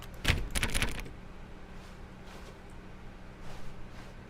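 Keyboard typing in The Stanley Parable video game: one short, close burst of quick clacking keystrokes at the start, then only a quiet low hum with a few soft, faint ticks.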